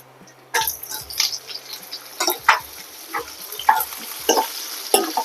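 Chopped onion stirred into hot oil in a pan for a mushroom curry, with a steady sizzle and repeated scraping stir strokes in irregular bursts, close and fairly loud, with no talk.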